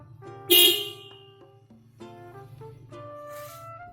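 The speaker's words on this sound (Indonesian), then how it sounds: "Pemeriksaan klakson" A car horn gives a short, loud honk during a vehicle inspection check over a steady idling engine, followed by fainter tonal beeps.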